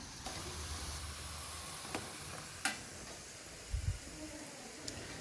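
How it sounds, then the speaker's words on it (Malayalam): Cake appam, shaped batter dropped into hot oil for an Eid sweet, fries with a faint, steady sizzle, punctuated by a few soft clicks and taps, with no talking. "ഷേപ്പ് ആക്കിയിട്ട് വെച്ച കേക്ക് അപ്പം നമ്മൾ ഓയിലിലേക്ക് ഇട്ടുകൊണ്ടുണ്ടാക്കി ഫ്രൈ ആക്കിയിട്ട് എടുക്കാണ്"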